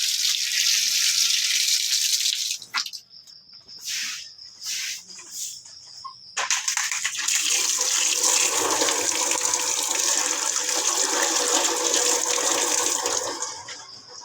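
Water runs from a faucet at a newly drilled 120-foot well, a steady hissing rush that breaks off into sputtering bursts and short gaps before flowing strongly again; no talk.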